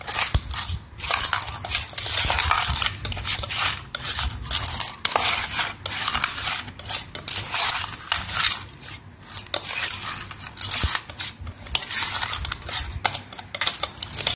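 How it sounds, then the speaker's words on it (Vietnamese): Pork is worked by hand with seasoning in a bowl, making continuous wet squelching, rubbing and slapping sounds in an uneven rhythm, close and fairly loud, with no talk. "chúng ta sẽ trộn đều cái phần gia vị này lên"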